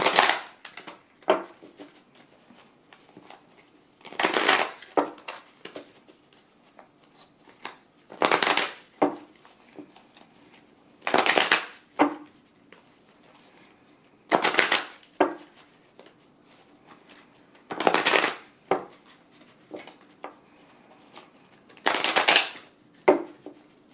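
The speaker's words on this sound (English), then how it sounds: "I'm going to shuffle these cards 7 times to figure out their personalities." Repeated bursts of riffling, fluttering tarot card shuffles, each lasting about a second, recur every few seconds with quiet handling sounds in between, close and crisp.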